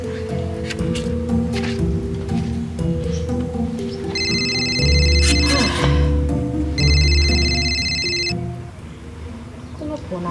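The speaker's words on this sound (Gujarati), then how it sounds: "કોનો ફોન આવે છે?" Telephone ringing in a comedy sketch, repeated electronic ring bursts heard twice over a busy background of music and movement, fairly loud in the mix.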